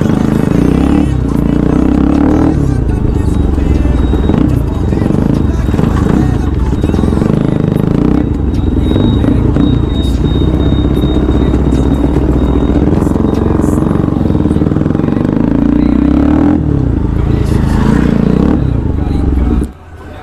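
A Bajaj Pulsar RS200 motorcycle fitted with a new aftermarket exhaust runs close by with a loud, steady, deep engine rumble and exhaust roar for the whole stretch. Voices and general chatter sound underneath.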